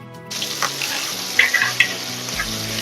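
Fenugreek seeds hit hot oil for a fish curry and burst into a loud, steady sizzle that starts suddenly and keeps crackling, with a few sharper pops and spatters along the way.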